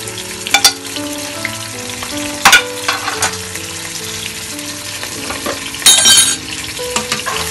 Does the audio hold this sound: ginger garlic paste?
yes